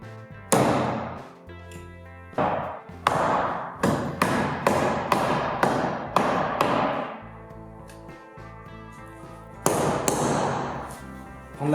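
Hammer blows on wood while assembling a wooden garden shed, a dozen or so sharp, loud strikes in an uneven rhythm, close by, with short pauses between bursts.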